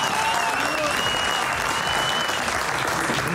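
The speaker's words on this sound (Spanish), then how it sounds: "Hay aplausos de la gente acá abajo." Dense, steady applause rises from a crowd of people gathered outside below a building, sustained and loud throughout, with a faint voice now and then over the clapping.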